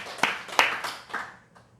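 A church congregation claps in thanks with a few sharp, evenly spaced claps that ring briefly in the room, then soften and trail off.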